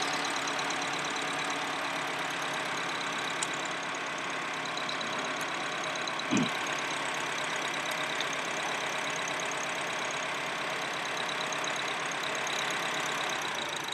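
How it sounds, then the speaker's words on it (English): A 2004 Acura engine with a misfire idles steadily nearby, a continuous rough hum with a brief low thump partway through and no talking. "Hear the change of the engine."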